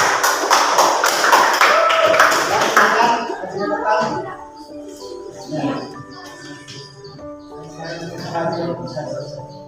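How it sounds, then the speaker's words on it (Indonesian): A classroom audience claps for a group about to present, a dense burst of hand clapping lasting about three seconds before it fades into scattered voices and chatter. "kita kasih tepuk tangan biar tambah semangat"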